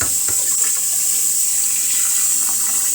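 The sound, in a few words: rinsing rice in water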